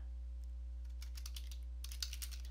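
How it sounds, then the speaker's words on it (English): Someone types a command on a computer keyboard: scattered quiet keystrokes, then a quicker burst of clicks, over a steady low electrical hum. "you want to type in ipconfig space forward slash release, and then you want to hit enter on your keyboard"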